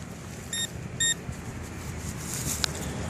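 A metal detector sounds two short electronic beeps while a coin spill is checked in a dug plug, close and clear over quiet outdoor background, with no talking.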